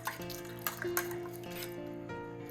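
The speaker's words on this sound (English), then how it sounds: "You want to stir that in nicely." A utensil stirs cream of chicken soup and water in a pan, giving quiet close scrapes, wet squishes and a few light clinks against the metal.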